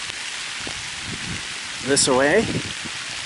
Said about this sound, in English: And it's raining and there's hardly any wind now.